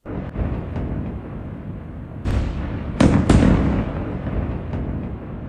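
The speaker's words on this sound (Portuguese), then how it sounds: "estão sendo registradas explosões e ataques por parte de Israel" Distant explosions from Israeli attacks in southern Lebanon boom one after another, a few sharp blasts with rumbling tails over a low background roar, loud and echoing.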